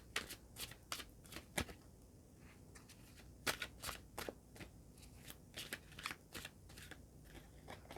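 Tarot cards are shuffled close by in a series of quick, crisp riffles and soft slaps, fairly faint and with no talk over them.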